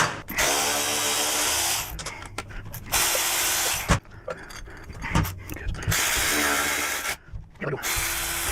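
A ratchet tightens bolts on an exhaust bracket during a Harley-Davidson Touring header install, sounding in several close bursts of rapid clicking separated by brief pauses and clanks.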